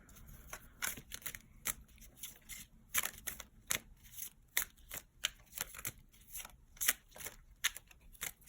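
A tarot card deck is shuffled by hand in a quiet room, a string of crisp riffling bursts and sharp card snaps arriving in uneven clusters, close and fairly soft, with no talking.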